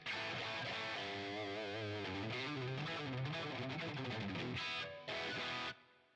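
Heavily distorted electric guitar played through a Line 6 Helix on the Friedman Brown Eye amp model, with dense sustained chords and shifting notes, loud and continuous, breaking off briefly near the end before a final burst.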